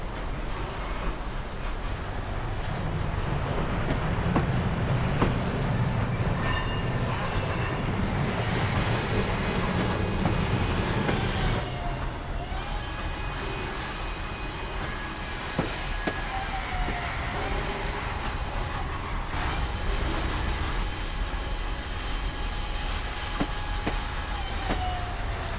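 A freight train carrying western rolling stock rolls steadily through a railroad yard on the Penn-Reading industrial line, a continuous broadband rumble with wheel squeal tones, heard outdoors under heavy wind buffeting on the microphone.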